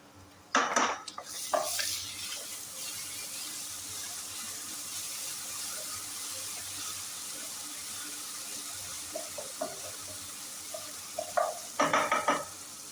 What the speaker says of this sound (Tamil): இப்போ இஞ்சி பூண்டு பேஸ்ட் வாசனை போகிற வரைக்கும் வதக்கி எடுத்துக்கலாம்